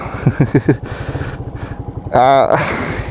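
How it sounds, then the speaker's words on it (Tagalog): A Rouser NS125 125cc manual motorcycle engine idles with a steady low throb, briefly revving louder near the end, close by with a person talking over it. "itong motor na ito na gagamitin natin ay si Rouser NS125. Yes, 125cc lang to."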